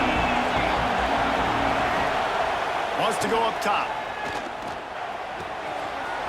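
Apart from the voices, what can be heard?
stadium crowd noise in a video game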